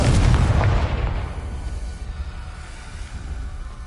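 A Confringo explosive spell blast in a Harry Potter video game: one loud booming burst up front that rolls off into a long, fading rumble, with no one talking.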